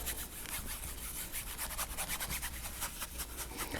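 Paintbrush scrubbing Prussian blue paint onto the outer edge of a black surface, a steady dry rubbing of bristles with repeated short strokes, close and fairly quiet, with no talking.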